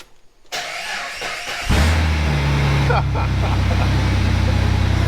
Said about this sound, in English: We are going to start the Jeep.